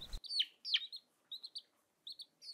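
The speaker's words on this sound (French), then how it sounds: "Piou, piou, piou, piou, piou, piou, faisaient les poussins." Newly hatched chicks peep in quick bursts of short, high, downward-sliding calls, close and clear with brief quiet gaps between them.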